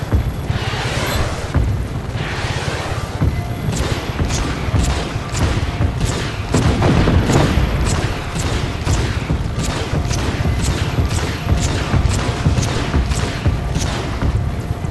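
Rocket fire and explosions hit a substation in Just Cause 3, a loud, dense barrage of repeated booms and blasts over a continuous roar for the whole stretch.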